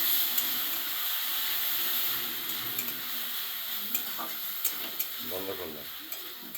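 Onion, chilli and garlic paste sizzling in oil while sautéed for ghugni curry, a steady hiss broken by several sharp spoon scrapes and clicks against the pan, fairly close and quiet.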